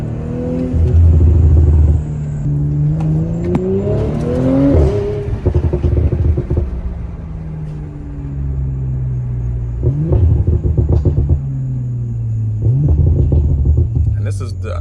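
A 2021 Audi RS5 with an aftermarket exhaust and a stage 1 tune rumbles loudly up close, its note climbing and dropping through several revs, with a deep burbling idle between them and crackles near the end.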